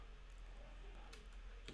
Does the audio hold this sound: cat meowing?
no